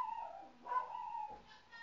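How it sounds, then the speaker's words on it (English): Dog barking and whimpering somewhere in a room, short yips and whines over a steady hum, moderately quiet and brief. "My dog is being so loud right now."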